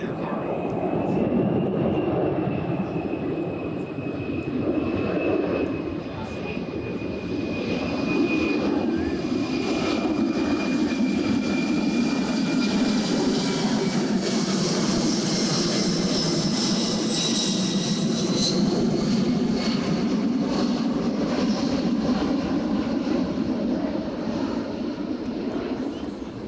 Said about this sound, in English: C-17 Globemaster III. The C-17 is capable of a tactical and strategic airlift.